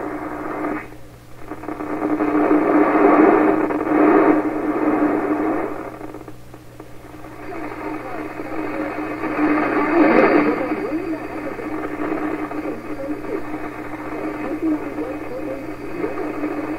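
A 1928 RCA Victor Model 28V radio plays while tuned in, giving a steady, fairly loud midrange broadcast sound with swelling, fading passages over about seventeen seconds.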